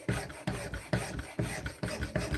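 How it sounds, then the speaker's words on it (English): A file rasps along the edge of a handmade Japanese santoku kitchen knife in six regular back-and-forth strokes, each a close, gritty scrape with short gaps between. "This edge here needs to be filed down a bit."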